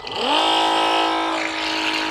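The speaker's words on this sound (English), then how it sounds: "we're going to turn it on. You'll hear it crank up" A small Milwaukee M18 battery-powered self-priming transfer pump whirs up to speed, rising in pitch over a fraction of a second, then holds a steady motor hum.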